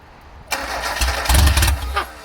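A Ford Festiva rally car engine cranks and catches, rumbling loudly into a rough, uneven idle with a brief rise in revs, while people talk nearby.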